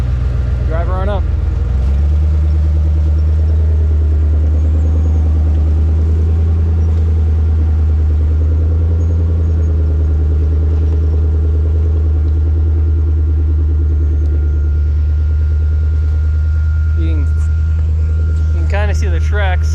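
A vehicle drives up through snow, its engine a steady loud low rumble that starts after about two seconds and holds throughout, with people talking faintly over it.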